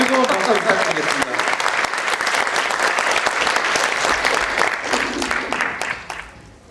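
Warm, loud audience applause at a political economics talk concert, thick continuous clapping that swells and then tapers off, with a voice audible at the start and faint talk beneath.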